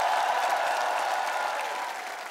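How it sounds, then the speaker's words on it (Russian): Studio audience applause on a television show, a full, even burst of many hands clapping loudly and steadily, tapering slightly as it ends, with no talk over it. "Ваши аплодисменты"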